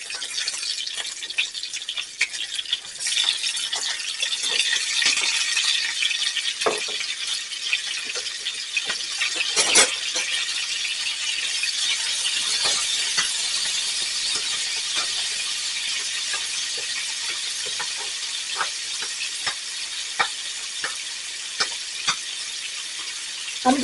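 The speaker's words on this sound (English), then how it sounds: "I'm going to saute these onions and I'll be back." Onions sautéing in a pan for gluten-free, dairy-free smothered chicken, giving a steady bright sizzle throughout with occasional clinks and scrapes of a utensil stirring, close and alone without talk.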